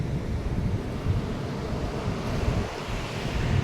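The Tunga river at Thirthahalli rushes continuously in monsoon rain with a steady, loud roar, mixed with wind buffeting the microphone, and no voices.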